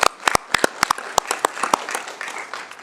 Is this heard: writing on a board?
no